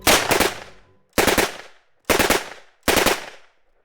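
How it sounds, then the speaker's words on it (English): 9mm Uzi submachine gun fired at a standard body armour vest in four loud, sharp bursts, each a rapid rattle of shots followed by a short decaying echo, with gaps of about a second between them. "First, the 9mm Uzi."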